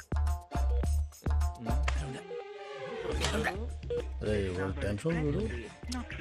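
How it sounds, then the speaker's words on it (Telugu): A telephone being dialed in a comedy film scene, a series of about five evenly spaced tones near and loud, followed by someone talking over a faint continuing tone. "ఈ ఫోన్ ఒకటి కలుస్తలేదు"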